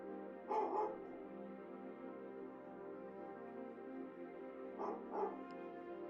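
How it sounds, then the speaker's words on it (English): A dog barks in two short bursts of a few yips each, one near the start and another about five seconds later, over a steady low background hum with no talking. "Dog's barking."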